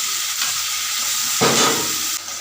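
Fried ridge gourd tipped into a mustard and poppy seed paste in a hot pan raises a steady hissing sizzle, which swells briefly partway through as the pieces go in. No one speaks.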